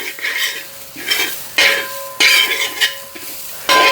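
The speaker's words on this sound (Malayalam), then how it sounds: "കൈ വിടാതെ ഇളക്കിക്കൊണ്ടിരിക്കണം" Coconut being stirred as chammanthi podi dry-roasts in a pan, with repeated scraping strokes in an uneven rhythm and a faint sizzle underneath, heard close up without any voices.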